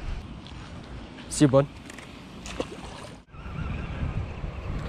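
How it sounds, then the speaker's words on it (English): Wind gusts buffet the microphone in a steady outdoor rumble while fishing, with a brief spoken phrase and some splashing near the start. "it is really windy over here"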